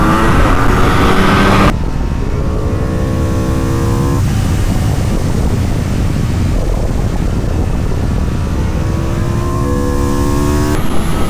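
An Aprilia V4 superbike accelerates hard and loud, its engine revving up through several rising sweeps, with a brief gear-change dip before climbing again.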